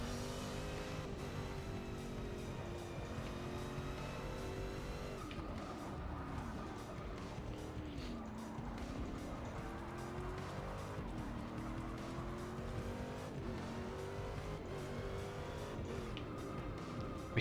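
Race car engines and squealing tires in Forza Motorsport 6 during a simulated Rolex 24 endurance race, continuous engine drone with pitch sweeps as the car shifts and corners, loud and steady.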